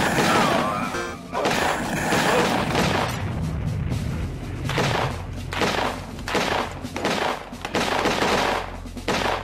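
Rapid, loud gunshots from a retro western-style shooter game, dense bursts of firing with crashes and booms that pause briefly and resume in repeated volleys.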